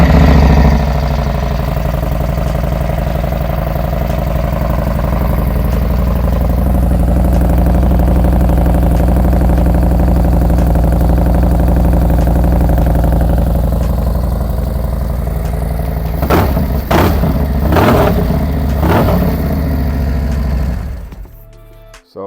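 A 2023 Harley-Davidson CVO Road Glide with a 2-in-1 single-side exhaust idles with a steady, loud, deep rumble, then near the end gives a few quick throttle blips before cutting off.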